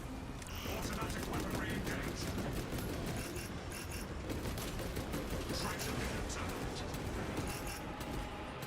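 Turret gunfire in Space Marine 2, a steady, continuous rattle of rapid shots holding at even loudness with battle noise around it and a voice talking over the top.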